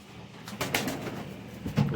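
Pigeons coo in a loft holding pairs of home-bred fancy breeds, including red and pearl-eyed Bajraie birds; a few soft, low coos rise near the end over a steady ambient murmur, with no talk.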